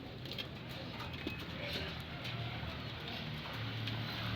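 Pet pigeons cooing softly in steady, low, repeated calls against constant background noise, with faint room sounds and no clear talking.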